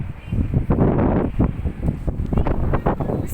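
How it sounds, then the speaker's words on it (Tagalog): Gusty night wind by the seaside at Tamar Park, Admiralty, buffeting the microphone in loud irregular bursts and roaring swells. "It's windy tonight."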